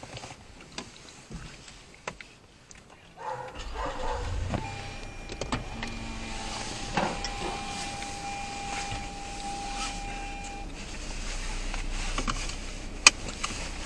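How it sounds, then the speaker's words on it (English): A car engine cranks and catches partway through, settling into a steady low idle with a faint whine, close by and fairly quiet, heard after a stretch of near silence. "Start the car."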